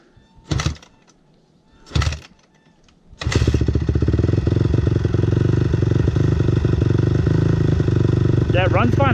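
Honda CRF250 dirt bike engine, damaged inside, idling steadily and loudly after a couple of short bursts and clunks, with a faint voice near the end.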